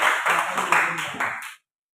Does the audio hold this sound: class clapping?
yes